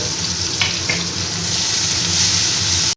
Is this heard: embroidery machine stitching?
no